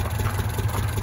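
A fully rebuilt Volvo Amazon engine fitted with twin Weber sport carburetors idles steadily up close, a deep, even low rumble with no one speaking.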